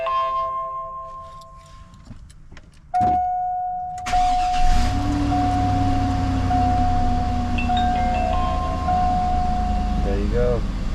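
A car engine cranks and catches after a battery kill switch is turned on, then settles into a steady idle with a faint chime. A voice talks over the running engine.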